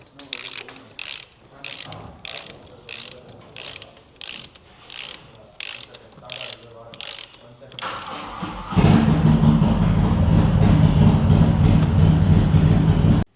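A starter motor on a 2003 Harley-Davidson Sportster cranks in about ten short, evenly spaced bursts, then the engine catches and settles into a loud, steady idle close by.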